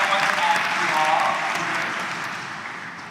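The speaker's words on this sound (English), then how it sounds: "can we give a hand and a round of applause for this?" Audience at a Destination D23 2025 Phineas and Ferb panel breaks into sustained applause and cheering, steady at first and gradually fading over a few seconds.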